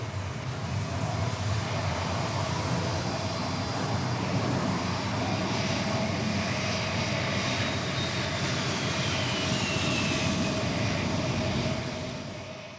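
An airplane spirals down to land, its engines making a steady, loud drone that fills the whole stretch and fades slightly at the very end, with no voices over it.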